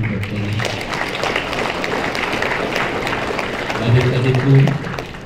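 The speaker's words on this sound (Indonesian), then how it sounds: "Mari kita tepuk tangan buat Tuhan." A crowd at the new Papua Pegunungan governor's inaugural speech claps steadily throughout, while voices speak and call out over the applause, loudest toward the end.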